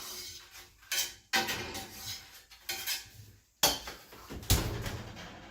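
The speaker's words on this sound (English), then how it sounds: "I am about to flip my matzo" A matzo being flipped in a hot pan gives a string of sharp metallic clanks and scrapes, several distinct knocks spaced irregularly with quiet gaps between, close and alone.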